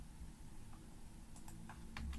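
A computer keyboard typed on during a spreadsheet lesson, with quiet, sparse key clicks that cluster toward the end over a low background hum.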